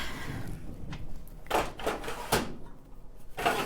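A craft room drawer holding rubber stamps slides open and shut in a few quick scraping strokes, close by and fairly loud, over a quiet room.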